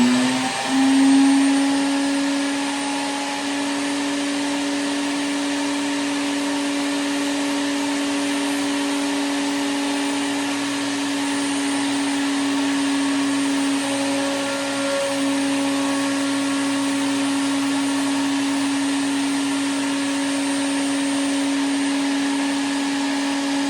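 A router on a router table cuts a truss rod channel in wood, giving a loud, steady high-pitched motor whine that holds without a break, with a brief surge near the start.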